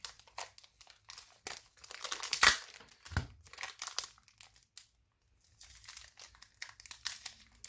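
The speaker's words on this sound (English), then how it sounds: "And they use some serious tape on this." Heavy packing tape being torn and peeled off a package of Pokemon cards, a series of close crinkling rips and crackles with a few louder tearing bursts and short pauses.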